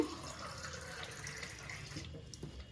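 A glass of water is poured into a pot of egg sambar in a home kitchen, giving a soft, continuous splashing trickle that tapers off near the end.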